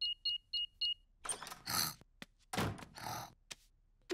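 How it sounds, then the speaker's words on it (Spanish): A household alarm panel gives four short, evenly spaced electronic beeps as it is switched off, followed by quiet clunks and rustling mechanism sounds close by. "Voy a apagar la alarma."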